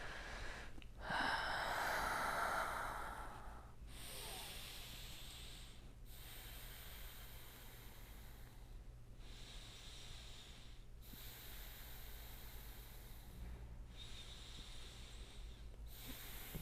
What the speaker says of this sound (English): I'm going to stop talking so I can breathe deeply